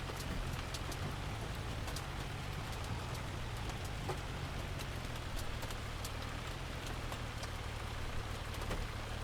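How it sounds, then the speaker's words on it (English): Steady hailstorm rain in the farming game Farming Simulator 25, a dense continuous patter of drops with low rumbling underneath, even and unbroken throughout, with no voices. "And there's a hailstorm."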